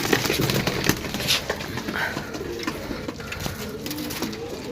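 Pigeons coo softly among fluttering and shuffling sounds close by, a steady busy loft texture with no talk.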